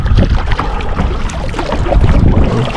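Strong wind buffets a small fishing boat out on a lake, a loud, steady roar of gusts and microphone rumble mixed with wash and splashing, continuous throughout with no speech.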